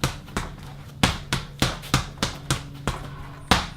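Solid punches thump into a heavy boxing bag during a speed workout, about ten sharp, close, loud hits in a steady quick rhythm, each with a short dull decay, no talking.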